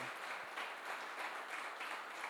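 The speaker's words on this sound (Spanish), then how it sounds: "Dale una alabanza de aplauso a nuestro Señor." A church congregation claps in praise during a sermon, a soft, even wash of many hands heard at a distance and fairly faint, steady throughout.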